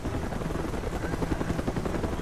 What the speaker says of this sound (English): here comes the Chinese helicopter